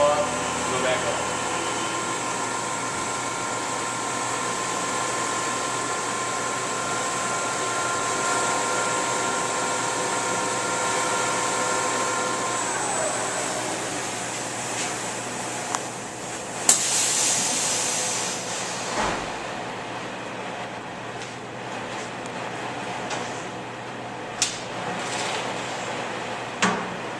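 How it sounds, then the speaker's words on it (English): A CNC lathe runs a steady machining tone with harmonic lines that drop away as the spindle winds down after the finish cut and Z retract, then a quieter hum with a few clicks and knocks remains. "Completes the finish cut, it's going to automatically go back to a Z retract, cut the spindle off, go back on"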